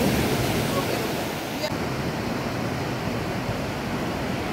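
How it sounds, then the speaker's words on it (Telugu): Sea waves washing onto a beach in Bali, a continuous loud roar of surf with heavy wind buffeting the microphone, close and unbroken throughout. "ఇది బీచ్ దగ్గరికి వచ్చాము, చాలా బాగుంది"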